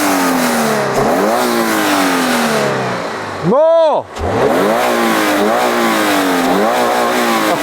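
Toyota GR86 with a naturally aspirated boxer flat-four engine revving hard nearby: repeated rising and falling engine notes, one sharp climb to a high peak that drops abruptly, with a voice calling out briefly over it.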